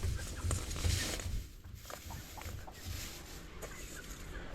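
Egg-laying hens in a coop making soft, scattered clucks and rustling, fairly faint against a steady background murmur.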